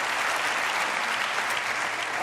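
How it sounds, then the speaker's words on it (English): A large audience at the 2019 FIM MotoGP Awards ceremony bursts into steady, dense applause. The many hands clap continuously at an even loudness for the whole stretch, with no voices rising above it. "So a huge round of applause."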